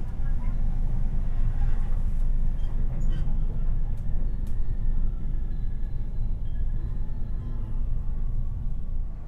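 Riding inside a KA Lodaya economy passenger train, a loud, continuous low rumble of the carriage rolling on rails, with faint rattles and brief clicks over the steady drone.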